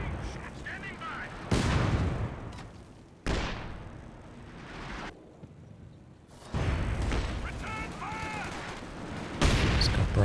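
Artillery barrage from Company of Heroes 2 combat: several heavy booming impacts land one after another a second or two apart, each with a long rumbling decay, while a commentator talks over the battle.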